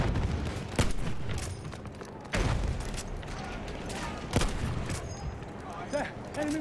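Enemy machine gun fire in Battlefield 1, with repeated sharp gunshot bursts and booms over a busy battlefield din, some of them loud and close.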